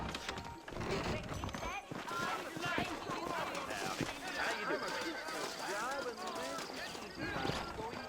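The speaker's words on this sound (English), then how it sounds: "I got the horses saddled up and ready out front." Horses' hooves clip-clop steadily in Red Dead Redemption, a rhythmic trotting patter with an occasional whinny, running under close conversation between characters.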